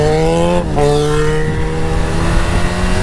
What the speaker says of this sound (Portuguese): Que moto boa.